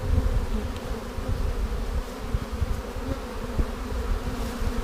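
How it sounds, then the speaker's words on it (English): Honeybees from an overwintered colony hum in a steady, close drone during hive inspection, a continuous dense buzz with a few individual bees zipping past the microphone. "Now I do have bees on this board here"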